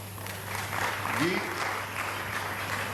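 Audience applauds at a conclave event, a steady wash of clapping of moderate loudness lasting throughout, with a low electrical hum and faint voice underneath.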